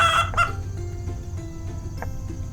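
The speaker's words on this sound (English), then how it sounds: "That sounded like a chicken." A chicken clucks on a farm, a few sharp, close clucks near the start followed by softer scattered calls over a steady low background hum, with no talking.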